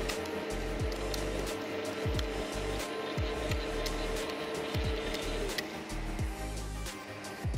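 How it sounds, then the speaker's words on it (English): A mortar mixer churns cement mortar at medium speed, giving a continuous mechanical whir with rhythmic low thumps and scraping as the paddle turns the mix. "Stop the mixer, change the mixing speed to medium, and then let it mix for 30 seconds."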